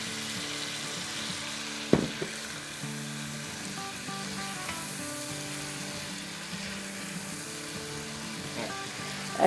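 Spices and water sizzle in a pan while mutton korma masala fries, a steady crackling hiss with a few sharp clatters of a spoon near the start and end.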